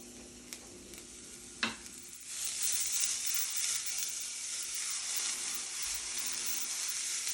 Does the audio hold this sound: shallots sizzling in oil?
yes